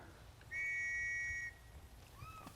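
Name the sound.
whistle calling a Chocobo in video game Final Fantasy XV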